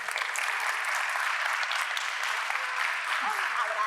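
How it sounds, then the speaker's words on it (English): Audience applause at a Hispanic Heritage Month celebration honouring a woman named Lily; a steady, dense wash of clapping from a sizable crowd holds evenly throughout, with a faint voice surfacing near the end. "Big round of applause for Lily."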